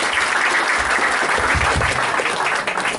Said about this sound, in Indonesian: Kasih tepuk tangan dulu untuk Dr.